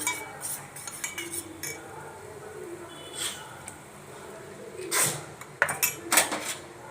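Sambar being stirred in a pot brings soft intermittent clinks and scrapes of a utensil against metal, close and quiet, with a few sharper knocks toward the end and no talk.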